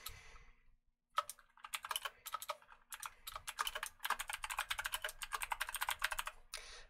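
Typing on a computer keyboard while entering a document name, with dense bursts of key clicks in quick irregular runs, close and clear after a brief pause.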